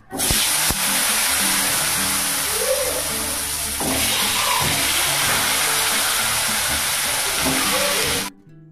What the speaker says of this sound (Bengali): এদিকে দেখো ডিমের আর মাংসের আলু একবারই ভেজে নিচ্ছি